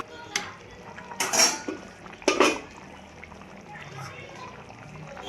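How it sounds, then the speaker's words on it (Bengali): Metal pot lid lifted off a pot of Kashmiri dum aloo, with a few clattering clinks of metal against metal at close range and a light kitchen hiss underneath; someone talks during the clip. "10 মিনিট হয়েছে, এখন আমি ঢাকনাটা খুলে দেখছি।"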